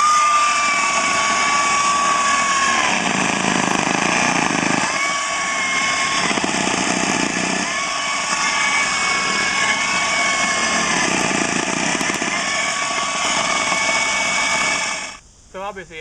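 A water well drilling rig grinds steadily into rock with a loud, constant mechanical drone and high whine, cutting out near the end.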